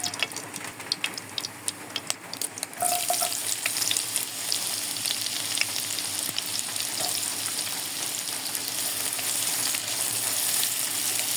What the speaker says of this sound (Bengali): পেঁয়াজটা হালকা করে ভেজে নিব